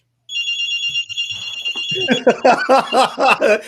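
Electronic telephone ringtone trills with steady high tones at the start, then a person begins talking over the fading ring.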